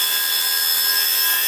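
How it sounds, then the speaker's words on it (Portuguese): Bench grinder rated 0 to 1000 RPM spinning steadily while a pair of scissors is sharpened, a continuous high-pitched whine with a faint rubbing edge, alone and unbroken throughout. "Esse esmeril é de 0 a 1000 RPM, certo?"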